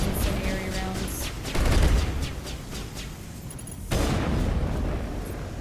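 Incendiary rounds fire in bursts in Mass Effect Legendary Edition, heavy booming shots with a dense rumbling tail and a strong thump near the middle, with no talk over them.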